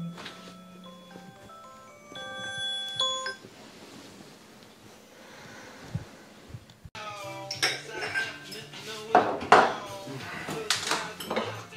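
Dishes, pots and cutlery clink and clatter during washing up, with scattered close rattles and knocks that grow busier and louder in the second half, mixed with a few electronic beeps and some background voices.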